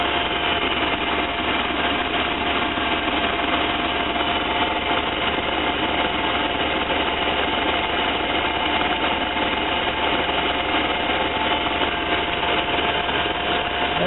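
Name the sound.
van engine idling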